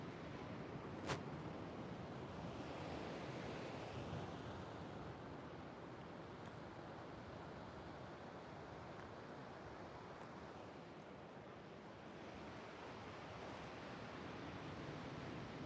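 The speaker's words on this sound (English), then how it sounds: "feel that ocean breeze" A soft, continuous wash of waves and ocean breeze at an oceanfront, faint and steady with gentle swells in the surf noise and no talking.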